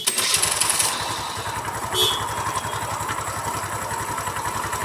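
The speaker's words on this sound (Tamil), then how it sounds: "மாற்றிட்டே வண்டியை ஸ்டார்ட் பண்ணி பார்க்கலாம் வாங்க." Motorcycle engine after a clutch repair, idling steadily with an even, close, low putter, plus a brief hiss near the start and a short higher burst around the two-second mark.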